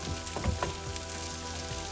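Sardine (mathi) fish frying in a pan, a steady close sizzle and crackle of hot oil with a few louder pops, heard alone.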